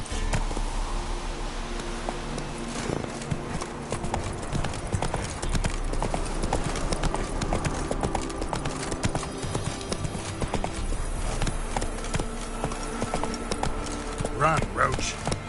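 Hooves of a horse in The Witcher video game clip-clop in a steady rapid rhythm throughout, close and clear over game music and ambience, with a voice speaking briefly.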